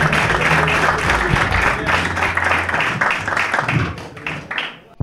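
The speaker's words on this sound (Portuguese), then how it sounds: "Olha, malta, com muitas palmas, vem de Coimbra, Guilherme Costeiro" A live comedy audience claps loudly for an incoming comedian, a dense, steady burst of applause lasting several seconds before tapering off near the end.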